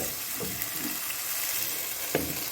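Ingredients for chilli prawn masala sizzle and fry in a pan, a steady close crackle with a few soft stirring scrapes and no talk.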